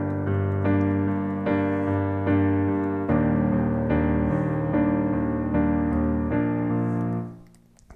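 Piano accompaniment for a pop song, with a left-hand thumb pulsing steady eighth notes under sustained chords. It plays close and clear for several seconds, then fades out.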